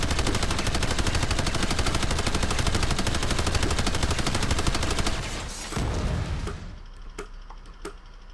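Rapid, continuous automatic cannon fire from an ESF aircraft weapon in Planetside 2, loud and sustained, then cutting off into a few sparse clicks and shots.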